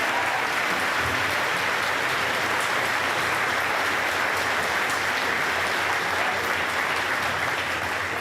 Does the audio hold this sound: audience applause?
yes